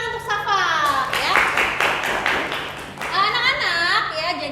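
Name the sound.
applause for a student named Safa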